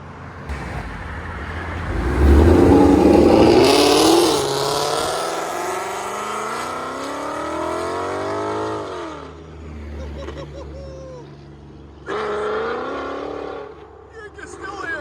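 A car accelerates hard as it pulls away, its engine note rising through the gears and fading into the distance, while a voice cheers and talks over it.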